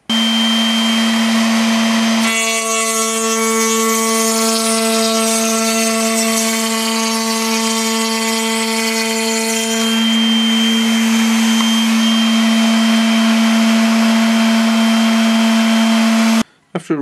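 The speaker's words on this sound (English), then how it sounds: "Now I can adjust the height of the cutter and the fence to start taking the slope off." Straight router cutting the sloped edge of a raised wooden door panel, a loud steady high whine with a strong fixed tone that rises into a harsher cutting roar for several seconds, then settles back to the free-running whine.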